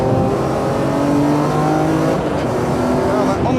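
A race car engine at Cadwell Park drones loudly and steadily, its pitch shifting slightly as it downshifts through the Gooseneck on a damp track, with a voice speaking faintly underneath.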